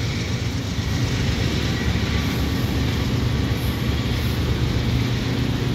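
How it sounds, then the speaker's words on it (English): A CN freight train hauled by four locomotives passes close by with a loud, steady rumble and rolling wheel noise that continues without a break. "There's four locomotives on this train."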